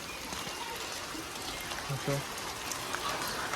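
Steady rain that has kept falling for two hours makes a constant close hiss and patter, with a few faint sounds mixed in.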